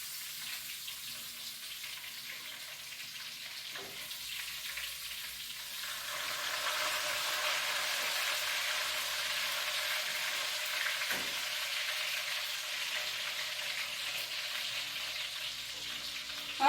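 Pork chops fry in a pan of hot oil, giving a soft, steady hiss that swells partway through and stays fairly quiet and even, with no voices.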